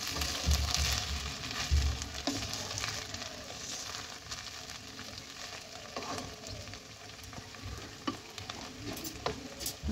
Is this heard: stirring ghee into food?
yes